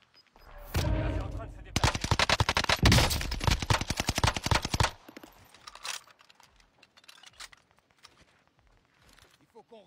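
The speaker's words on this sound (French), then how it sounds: "Il me tire dessus." Gunfire in a battle-royale video game, with rapid bursts of shots up close between about one and five seconds, then sparser distant shots while people talk over the action.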